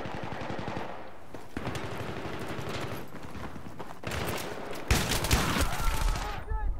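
Rapid automatic gunfire and close-range shotgun blasts in Battlefield 3 multiplayer, dense bursts running almost continuously with a louder volley near the end, a voice talking faintly underneath.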